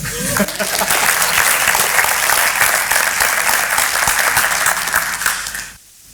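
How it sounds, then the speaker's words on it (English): Loud, close applause from a breakfast crowd during a county state-of-the-county address, many hands clapping densely for about five seconds before cutting off abruptly into near silence. "You can clap."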